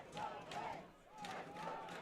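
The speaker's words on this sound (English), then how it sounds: "The crowd really getting into it here." Crowd at the McCormick Cup hurling final roaring and chanting in rising, falling waves, fairly faint and distant, with a voice drifting through it.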